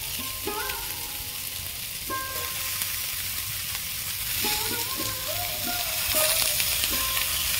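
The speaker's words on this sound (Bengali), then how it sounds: "অল্প অল্প করে বাঁধাকপি দেবো আর এইভাবে নাড়তে থাকবো।" Cabbage fries in a pan for a fish-head ghonto, a constant close sizzle broken by repeated scraping and clinking as a spatula stirs the pan, with no talk over it.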